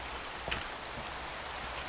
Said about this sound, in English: Oh, crud, it's raining.